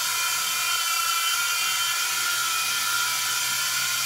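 A Protocol Skyline G-Series three-channel RC toy helicopter with a gyro spins up its rotor. It gives a constant, fairly loud high-pitched electric whine and whir that stays steady and is heard alone.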